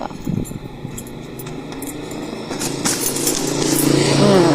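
A motorcycle cruises along a quiet road, its steady engine drone mixed with rushing wind noise that grows gradually louder, with no talk over it.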